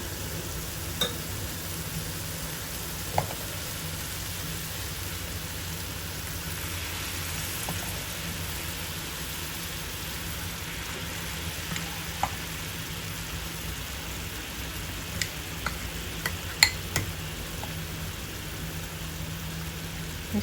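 Onion paste sautéing in oil in a pan for paneer matar masala gives a soft, steady sizzle throughout, with a few faint clicks and no talking.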